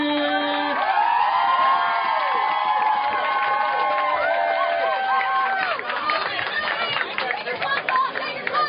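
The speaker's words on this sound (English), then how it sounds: "Keep that round of applause going for your first poet ever at Auntie Mae's Mighty Fine Poetry Slam, Zachary" Audience applause, cheering and whoops at a poetry slam, a loud dense crowd sound sustained throughout, with voices and shouts mixed in and the clapping thinning slightly toward the end.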